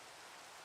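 Soft, even rainfall hisses in a video game scene, a faint continuous wash with no voices heard.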